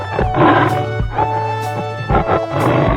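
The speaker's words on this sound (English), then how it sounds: "Tiger." A tiger roars in a 3D animal video game, with loud growling calls repeating three times over steady game music.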